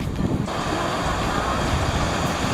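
A restless sea churns with rough waves and strong wind, a loud, broad roar of surf mixed with gusting wind buffeting the microphone, continuous for a couple of seconds with no talk.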